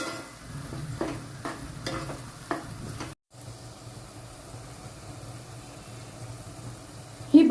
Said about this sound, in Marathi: एक चार पाच मिनट ही भाजी छान परतून परतून घ्यायची